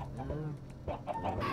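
A chicken in a survival video game clucks in a few short, bright, uneven bursts, with faint game sounds and a hint of voice underneath.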